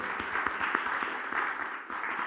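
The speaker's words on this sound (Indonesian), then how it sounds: "Mari beri tepuk tangan bagi Tuhan kita." A church congregation applauds for God during a service, a steady wash of many hands clapping at moderate level with no voice over it.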